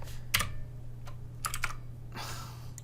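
Computer keyboard keys tapped in a few short clusters of clicks during 3D modeling work in Maya, near and fairly quiet over a steady low electrical hum.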